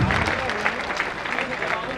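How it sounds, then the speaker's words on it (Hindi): Applause and cheering from a crowd at an Indian political election rally, greeting the visiting defence minister; dense, steady clapping fills the whole stretch with voices mixed in. "जोरदार ताली बजाकर उनका स्वागत करें"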